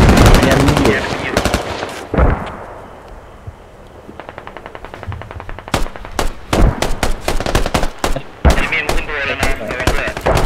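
Gunfire from the video game Squad, with loud bursts of rapid automatic fire and single sharp shots close by, broken by a brief lull and then dense repeated volleys.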